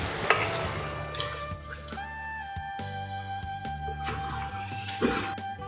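Chicken curry for a Kerala-style nadan kozhi curry is stirred with crushed pepper and fennel, giving soft scraping and stirring under a faint sizzle, with a steady tonal hum in the background.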